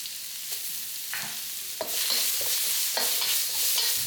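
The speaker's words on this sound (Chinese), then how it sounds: "先把肉放进来和姜炒在一起" Ginger and pork belly being stir-fried in a hot pan, a continuous sizzle broken by repeated scraping strokes of a spatula, close and fairly loud, no talking.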